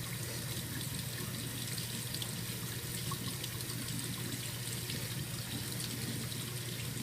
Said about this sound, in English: you want to turn on the water